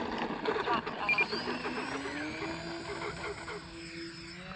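A small propeller airplane drones steadily in flight, with a continuous engine hum and a rising tone after flaps are retracted on an evening flight; a pilot talks at times over the engine.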